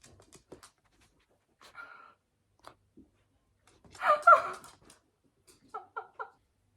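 A dog pants softly in short, quick breaths, with a few louder whimpering bursts in between; close and intimate, mostly quiet gaps.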